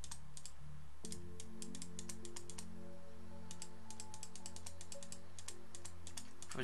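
Rapid, close computer clicking while playing a video game, quick bursts of sharp keyboard and mouse clicks in clusters over a low humming game soundtrack.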